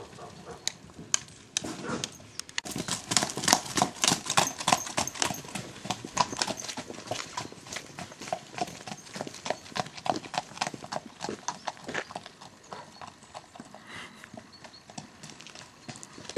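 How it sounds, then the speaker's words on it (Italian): Horses loose together around a stable yard, a stallion among mares, hooves clip-clopping in a steady quick rhythm of sharp close hits, with occasional snorts and faint voices. "lo lasciamo andare con le cavalle in giro"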